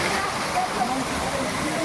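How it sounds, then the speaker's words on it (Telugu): Water pours down from above at a temple set in a waterfall, a steady broad rushing wash heard close and without pause. "చూస్తున్నారు కదా పైనుంచి జాలువారి నీళ్ళు"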